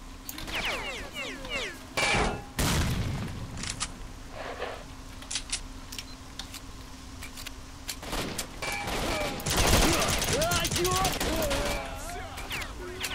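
Rapid bursts of automatic gunfire crack out in S.T.A.L.K.E.R.: Shadow of Chernobyl, loud clustered volleys with brief gaps, mixed with game ambience and distant voices.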